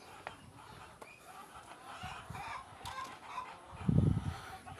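Fayoumi chickens cluck softly in the background, with a few faint calls over a quiet poultry farm and a low rumble near the end.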